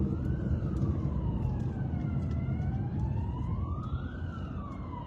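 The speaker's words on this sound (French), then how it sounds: "Ah, il y a l'ambulance vraiment." An ambulance siren wails past, its rising and falling tone sweeping loudly over steady traffic rumble with no voices.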